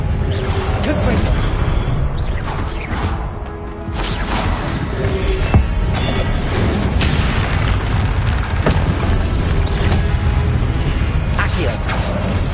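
Confringo spell blasts in Hogwarts Legacy combat: repeated booming explosions and whooshes over dense mechanical game noise, with voiced spell calls mixed in throughout.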